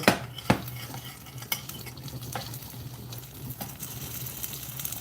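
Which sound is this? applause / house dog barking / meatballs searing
meatballs searing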